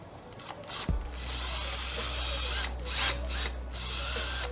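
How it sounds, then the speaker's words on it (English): A small power drill boring tiny pilot holes through a leather shoe sole to fit a metal toe plate, a sharp start followed by a steady low whirring hum that swells briefly near the end, fairly quiet and close. "I'm just going to take my drill and make some tiny little pilot holes"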